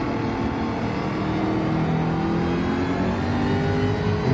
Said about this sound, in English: we've got 4 cars trying to fight for position in there.